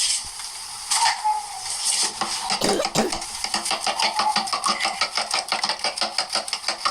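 Eggs beaten in a bowl for fried rice, a rapid rhythmic whisking clatter at close range that settles into an even beat in the second half.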